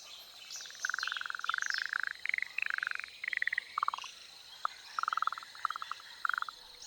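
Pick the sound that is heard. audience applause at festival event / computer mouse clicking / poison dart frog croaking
poison dart frog croaking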